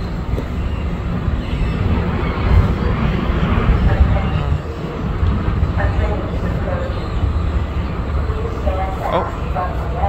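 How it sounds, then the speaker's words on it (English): A Washington Metro train moves at New Carrollton Station with a loud, steady broadband rumble and rattle of wheels on track, plus occasional faint higher squeals and clanks, continuing throughout. "All right, so now the Washington Metro is moving."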